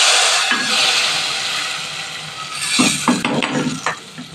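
Hot tempering of garlic, onion and curry leaves hits a pot of suvarna gadde and chickpea curry with a loud sizzling hiss that fades, then a few clinks and scrapes of a spoon stirring, no talking.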